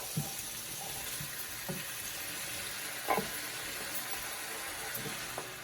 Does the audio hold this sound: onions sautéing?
yes